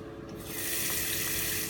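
Water runs from a tap into a ceramic sink bowl with good pressure, a steady close rushing splash that swells after a softer start and continues unbroken.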